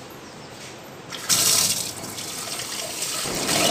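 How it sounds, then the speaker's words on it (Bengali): Running tap water while rice is washed, a soft trickle that jumps to a louder rushing stream and keeps flowing steadily, close by and with no voices. "এই মুহূর্তে জলের আওয়াজটা শুনতে কিন্তু বেশ লাগছে"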